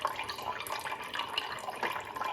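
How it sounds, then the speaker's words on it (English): Pineapple pieces tumble and splash into an AMZ Chef cold press juicer, a steady wet, sloshing clatter close by with juicy dripping, no talk. "I'm gonna actually just pour in all of this pineapple at one time"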